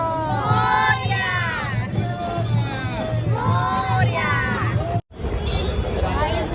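A dense festive crowd cheers and shouts as a Ganpati idol arrives in procession. Loud whoops and many overlapping voices fill the air with a steady roar, a drum-like low pulse underneath, and a brief dropout near the end.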